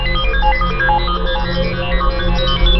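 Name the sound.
mobile phone ringing in pocket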